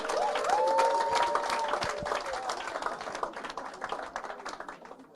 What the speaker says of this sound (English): More claps for the oxytap people.